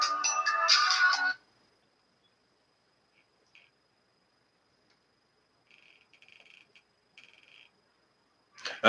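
A phone's ringtone for an incoming call: a loud burst of electronic tones at the start, then near silence broken by a few faint, brief tonal blips.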